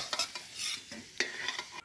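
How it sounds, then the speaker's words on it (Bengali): Bay leaf, cumin and dried chilli stirred in hot oil, with quiet crackling and sizzling under several quick scraping stirs and light clinks of the spatula against the pan. "তেলের উপর দিয়ে দিলাম তেজপাতা জিরে মশলা শুকনো লঙ্কা দিয়ে একটু নেড়ে নেব"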